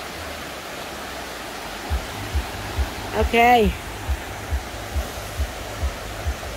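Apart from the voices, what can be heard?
mountain stream flowing water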